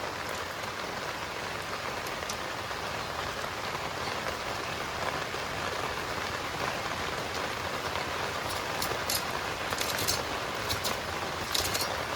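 Steady rain falls on a surface, a dense continuous patter that stays even throughout, with no voices.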